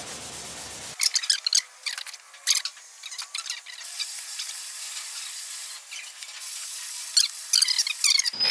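Rusty firewall panel on the Demo Ranch Cuda being scrubbed with a Scotch-Brite pad, giving a steady abrasive rubbing with bursts of quick back-and-forth strokes, close and fairly loud, no talking.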